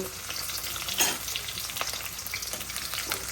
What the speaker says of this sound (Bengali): শুকনো মরিচের সাথে দিয়ে দিব রসুন কুচি গরম দিলাম রসুনটা একটু কালার করে ভাইজে নিব